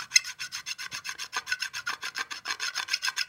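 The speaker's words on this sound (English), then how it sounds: "This is what happens when two moving metal parts rub against each other." Two moving aluminum parts with no motor oil scrape against each other in a rapid, rhythmic rasp. About twenty even strokes come in close succession, with no talk.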